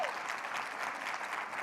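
Keynote audience applauds Renee Sadie White, an even, sustained patter of many hands clapping in a hall, moderately loud and without speech.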